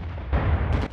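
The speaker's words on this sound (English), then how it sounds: "I love me some explosions." A loud, deep explosion in the video game Rising Storm 2: Vietnam booms and rumbles briefly, followed by a second burst, with no voices.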